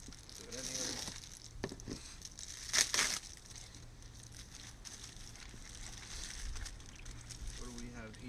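A plastic parts package for a Greddy turbo kit on an Integra is torn open by hand, with crinkling and crumpling bursts, one loud rip midway, and a low steady hum beneath.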